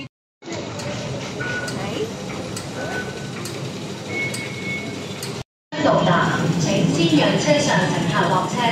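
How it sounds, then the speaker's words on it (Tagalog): A Hong Kong MTR train on the Tung Chung Line rumbles and rattles steadily from inside the carriage, with a short cut in the middle and people talking over it. "ito yung train natin. Papuntang Yongchong Line"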